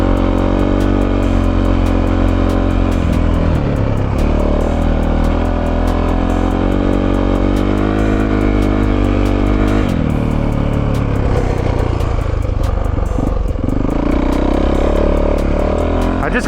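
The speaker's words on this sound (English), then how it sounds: "Back on the dirt bike, man." A Yamaha YZ450F dirt bike fitted with a new Dunlop MX34 rear tire roars loudly and continuously while ridden on loose dirt, its engine note rising and falling with throttle changes.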